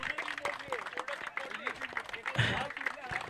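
Scattered clapping from a crowd at a sports prize ceremony as a trophy is handed to a team, uneven and fairly quiet, mixed with chatter and a brief louder swell midway.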